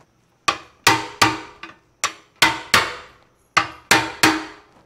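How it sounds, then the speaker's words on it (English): A bigger hammer strikes a dent in the steel gas tank of a 1973 Honda CB750: about nine sharp, ringing metallic blows in an uneven rhythm, each decaying briefly, loud and close with no talking. "Okay, let's go to the bigger hammer."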